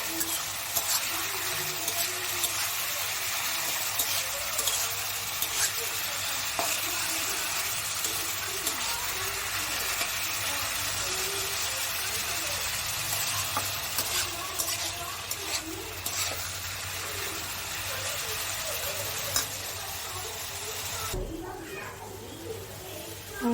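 Potatoes for aloo bhaji fry in a pan with a steady, even sizzle that runs close and fairly loud the whole time, with occasional stirring scrapes and brief bird calls faintly in the background.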